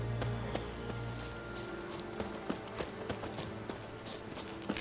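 Horse hooves clip-clopping in The Witcher III, a string of sharp, uneven hoof taps at close range over a low ambient bed, with a brief low rumble at the start.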